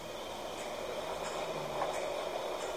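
A steam engine train rumbling along at steady speed, a continuous broad roar with rattling wheels and no voices.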